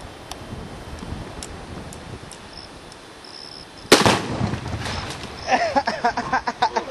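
A 12-ounce charge of Tannerite shot at a dam blows with a single sharp explosive crack, followed by rumbling debris and wind buffeting the microphone outdoors, after a quieter windy lead-in.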